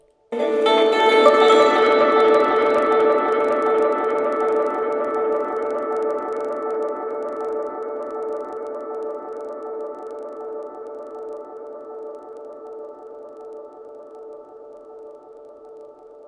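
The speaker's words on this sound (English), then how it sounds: "I'm going to be listening to echo" A dub echo effect rings out as a sustained tonal wash that slowly decays over many seconds, its long tail fading gradually with no voices.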